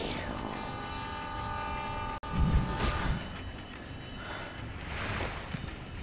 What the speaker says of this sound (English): Looks like you have a train to catch, or will it catch you?